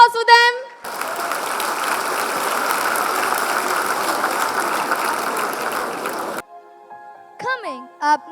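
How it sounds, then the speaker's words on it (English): At a school annual day, an audience bursts into loud, sustained applause for young singers, filling about five seconds before cutting off, with a voice heard briefly before and after. "Can we hear a louder applause for them?"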